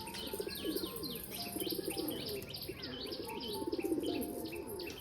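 Rock pigeons cooing in soft, repeated rolling calls while gathering to drink water near a cage, with small chirps mixed in, fairly close and steady, no talking.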